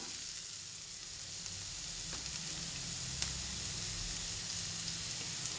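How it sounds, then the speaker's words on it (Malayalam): Sliced onions sauté in a pan for cauliflower masala as crushed ginger and garlic go in, a continuous even sizzle and hiss with a few faint clicks, close and steady. "സവാള ഇതുപോലെ വഴന്നു വരുന്ന ഈ ടൈമിൽ നമുക്ക് ഇഞ്ചി വെളുത്തുള്ളി ചേർത്ത് കൊടുക്കാം"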